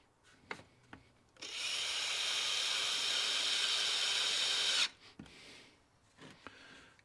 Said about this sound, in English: Slow the drill down first.